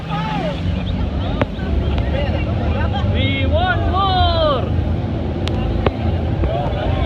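A tour boat churns through heavy spray near the Devil's Throat at Iguazu Falls in Argentina, its engine rumbling and the roar of water and wind continuous, with excited voices and shouts over it.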